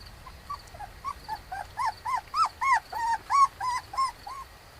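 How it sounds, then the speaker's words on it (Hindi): A frightened puppy whimpers in a rapid series of about a dozen high, rising-and-falling whines, close and fairly loud, with each short cry following the last in a plaintive, repeated rhythm. "उसके मुंह से लगातार कूं कूं की आवाज आ रही थी, जिससे साफ लग रहा था कि वो डरा हुआ है।"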